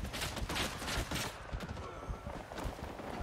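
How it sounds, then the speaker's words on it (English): Gunfire in the Vietnam War video game Rising Storm 2, a continuous dense crackle of shots, loud and close, with sharp bursts throughout and no voices over it. "someone's shooting at us"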